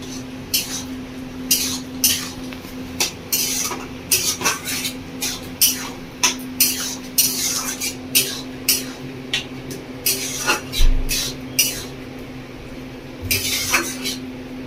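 A spoon scrapes and clanks rhythmically against a pot while spices with Kashmiri chilli powder are mixed into moong dal with prawns, repeated metallic strokes over a faint simmer.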